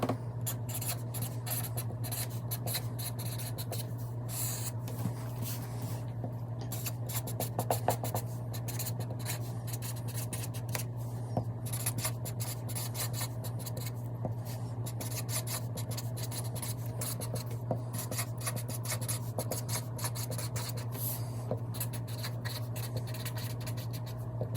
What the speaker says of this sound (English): you guys saw me jotting some of this down